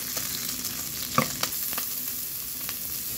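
Chopped onion frying in a pan until lightly browned, a steady close sizzle with a few sharp clinks of a utensil stirring, no talk.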